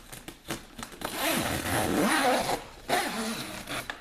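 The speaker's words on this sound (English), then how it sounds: "And then you can just zip it back up." A long zipper on a Honda Pioneer 1000-5 side-by-side cab enclosure pulled steadily closed for about two seconds, preceded and followed by short rustles and zip tugs, close and fairly loud.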